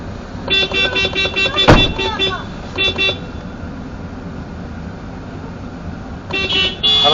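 A car horn honks repeatedly in city traffic, a run of short toots followed by further bursts later, loud and close against road noise.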